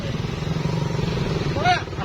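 A motorcycle engine gives a steady low rumble close by, and a raised voice shouts briefly over it near the end.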